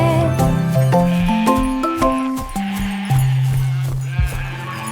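Several cartoon sheep bleat in succession in a French nursery rhyme, wavering calls rising and falling in pitch, close and loud, one following another without pause.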